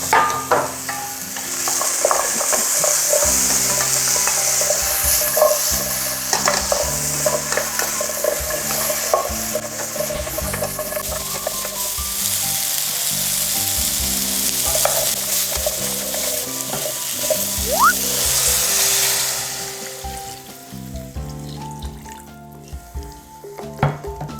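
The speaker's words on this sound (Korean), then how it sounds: "감자를 먼저 볶아주고요" Potatoes and onions stir-fried in a pan for Korean pork stir-fry, a steady close sizzle with repeated scraping and stirring clatter throughout, no talk.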